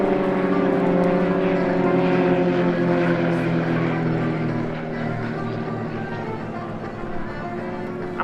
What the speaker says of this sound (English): We now see three of the aircraft exiting the stage, giving us our first chance to enjoy some solo action